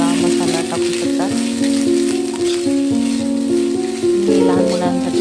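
Sprouted moong sizzles steadily in a pan with turmeric and spices, village style, a continuous close frying hiss running under melodic background music.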